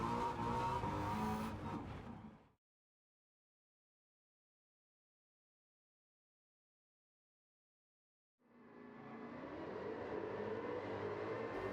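A 2017 Ford GT drifts in Gran Turismo 7, its engine revving under squealing tires. The sound is loud for about two seconds, cuts to complete silence, then returns with a sustained engine note and tire noise.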